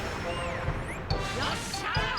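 A glass-shattering crash from a Dragon Ball Legends gacha summon, a sharp smash at about one second followed by bright tinkling and chiming effects over continuous game music.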